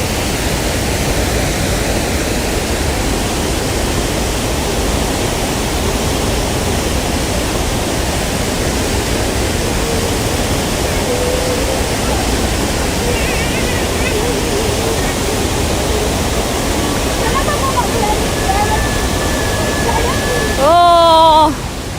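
Tegenungan Waterfall in Gianyar, Bali roars as a loud, steady, broadband wash of falling water, constant throughout, with faint voices and brief tonal sounds near the end.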